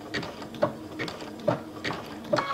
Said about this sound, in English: I'm going to turn it back and do a couple of more stitches